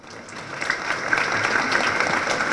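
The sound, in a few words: applause at anticorruption system ceremony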